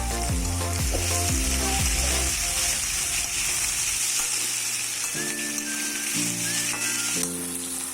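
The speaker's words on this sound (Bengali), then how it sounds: "কাঁচা লঙ্কাগুলো দিয়ে হালকা করে ভেজে নেব" Onions and green chillies sizzle in a pan with a loud, steady hiss throughout, while a separate tonal, musical sound runs alongside it.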